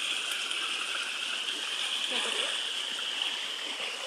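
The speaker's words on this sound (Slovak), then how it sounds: "Znova potok" A mountain stream rushes and splashes steadily nearby, a continuous bright watery hiss with faint talk mixed in.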